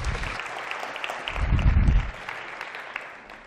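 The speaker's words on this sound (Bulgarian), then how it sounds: "Аплодисменти!" Audience applause at a Bulgarian talk about patent trolls, a broad wash of clapping that swells to a loud peak midway, with a low rumble underneath, then thins and fades toward the end.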